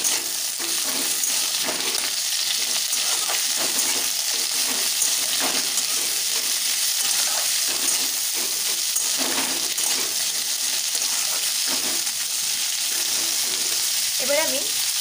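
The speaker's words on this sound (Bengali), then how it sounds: "এবারে আমি এর মধ্যে সমস্ত বাকি সবজিগুলো দিয়ে দেবো, গাজর, শিম, বিনস দিয়ে দেবো। দিয়ে ভালোভাবে মিশিয়ে দেবো।" Carrots, flat beans and other mixed winter vegetables stir-frying in a pan for a Bengali vegetable fry, giving a loud, steady sizzle close by with occasional stirring scrapes and clatters throughout.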